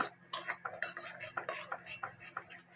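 Spice paste being sautéed in a pan, with a spoon scraping and tapping against the metal in quick uneven strokes, close and fairly loud, and no talking.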